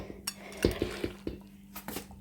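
A few light clinks and knocks as a plate is picked up and set down onto a bucket of fermenting cabbage, quiet and close, with no talking.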